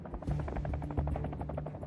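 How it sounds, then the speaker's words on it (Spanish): Helicopters ferrying the wounded during the Waco siege, a rhythmic low rotor thudding with a steady drone, close and continuous. "Los helicópteros iban y venían sacando heridos."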